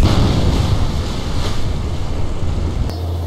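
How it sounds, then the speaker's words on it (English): Rocket crashes into the ocean in Kerbal Space Program, a loud, broad rushing roar like surf and wind that holds steady, then shifts abruptly near the end to a lower steady hum. "Parts explode as it comes into the ocean."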